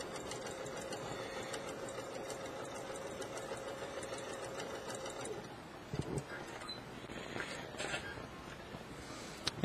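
Sewing machine top stitching a flat felled seam about 1/16 inch from the edge, a steady whirring motor hum running continuously, then slowing with a few clicks and knocks near the end.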